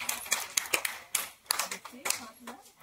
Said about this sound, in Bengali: তাদের জন্য একটা হাততালি হবে